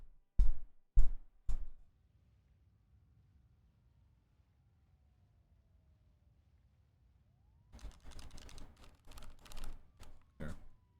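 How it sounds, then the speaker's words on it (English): A clicky mechanical keyboard clacks in short, sharp bursts: a few loud keystrokes at the start, a long quiet gap, then a longer run of rapid typing near the end. "Clickies on the keyboard?"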